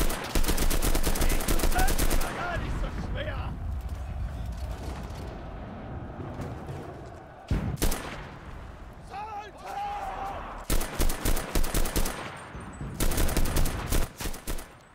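Machine gun fire in a West German Army battle on Berlin Defence Moat in a military shooter game: loud, close bursts of rapid shots, a pause with scattered single cracks and distant noise, then short tap-fire bursts resuming.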